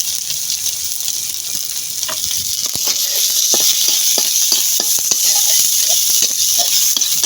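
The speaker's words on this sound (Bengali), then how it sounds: "এখন ভাজবো পেঁয়াজ কুচি," Chopped onion and garlic frying in a pan, a steady loud sizzle with scattered sharp pops and spatula scrapes, no talking.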